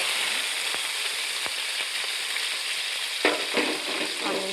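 Chopped onions hit hot oil already holding cumin, mustard seeds and garlic for a potato curry, giving a steady close sizzle and crackle, with a few stirring scrapes near the end.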